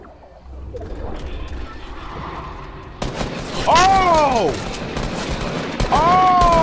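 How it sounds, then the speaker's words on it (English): Heavy shotgun firing in the Fortnite video game, loud game effects with a sudden blast and a couple of sharp swooping tones, over background game noise. "Heavy shotgun."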